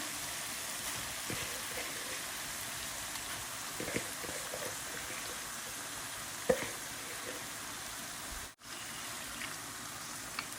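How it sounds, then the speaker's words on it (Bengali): Minced beef sizzles and fries steadily in a cooked-down spice masala, a continuous hiss with occasional stirring scrapes and a brief dip near the end, no talking. "মশলাটা কষানো হয়ে গেছে, এখন আমি কিমা দিয়ে দিব।"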